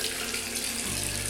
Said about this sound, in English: First I'm going to rinse my face in warm-ish water,